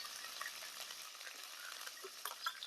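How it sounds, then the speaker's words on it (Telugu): Ginger-garlic paste and curry leaves fry in a pan for an Andhra stuffed eggplant curry, giving a faint, steady close sizzle with small pops and light stirring, no voices. "అల్లం తెలగడ్డ పేస్ట్ పచ్చివాసన పోయేంత వరకు అలా వేపుకున్నాం"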